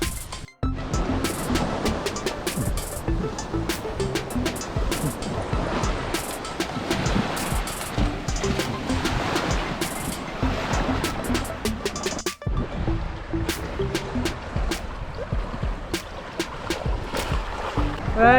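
Ocean surf rolls onto a Philippine shore in a steady, close wash of breaking water and fizzing foam, with scattered crackles and splashes throughout and no pause in the roar.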